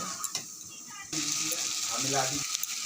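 Spice paste with turmeric and salt hits hot oil in a pan, starting with quieter crackles and then jumping into a loud, continuous sizzle with scraping stirs, while a voice briefly talks over it.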